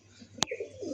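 A male pigeon of a red-and-green-eyed fancy breed gives a short coo close by, preceded by a sharp click, in a quiet one-second moment.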